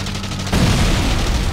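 Aircraft gunfire in the Wings! Remastered flight combat game: a loud, dense low burst that kicks in about half a second in and keeps rumbling steadily to the end.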